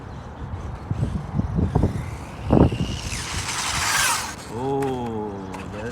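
WLtoys A959B RC car with upgraded shocks driving along, bursts of small clattering suspension and gear noise, then a rising high whine of the electric motor as it speeds up, close and fairly loud with no talk.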